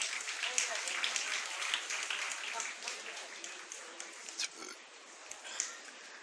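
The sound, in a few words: round of applause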